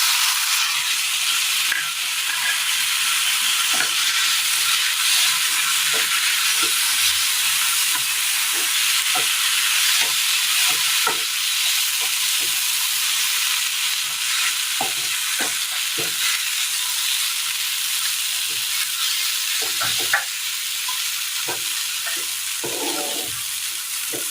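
Okra, onion and cooked jackfruit seeds fry in a pan for a Kerala stir-fry, giving a steady close sizzle and hiss throughout, with scattered stirring clicks and scrapes and no talking.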